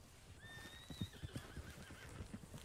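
A Kentucky Saddler horse in Red Dead Redemption 2 gives a clear, rising then wavering whinny, with soft hoof clops and snorts underneath, fairly quiet overall.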